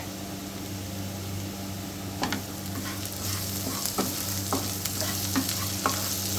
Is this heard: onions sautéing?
yes